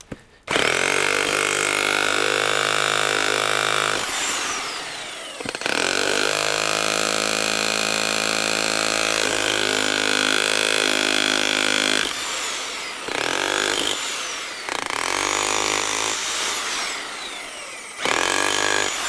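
A Graphite 1500W SDS Plus rotary hammer drill runs loud and close in a workshop, in several sustained bursts with brief pauses between them as the motor spins up and down.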